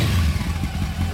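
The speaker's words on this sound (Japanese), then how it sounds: "すみません、エンジン音聞かせてもらえますか" A 1998 Honda CB400FOUR NC36 four-cylinder motorcycle idles with a steady, close, loud engine burble and a slight pulsing throb, with no voices.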